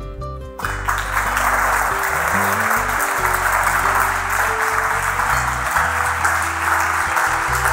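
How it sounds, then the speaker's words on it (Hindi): Loud sustained applause from a church congregation at a gospel sermon, dense clapping filling the space steadily throughout after a brief opening moment, with no talk over it. "यीशु के लिए जोर तालियां।"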